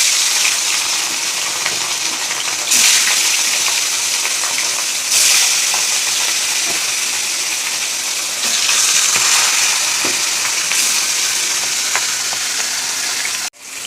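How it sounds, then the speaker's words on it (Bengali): Fish frying in a pan, a loud continuous close sizzle of hot oil with bright hissy texture, swelling in a few surges and cutting off abruptly at the very end. "মাছগুলো এবার ভেজে নিই।"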